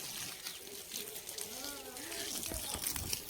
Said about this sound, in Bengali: জল ঢেলে নি, জল নিয়ে নি